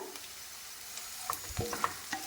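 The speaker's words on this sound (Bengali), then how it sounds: "আদা রসুনটাকে দিয়ে একটু বেজে নেব যাতে করে আদা রসুনের কাঁচা গন্ধটা চলে যায়" Ginger-garlic paste sizzles quietly in a pan with softened onions and green chilies for a lentil and vegetable curry, a steady soft fry broken by a few scraping stirs and small pops, with no talking.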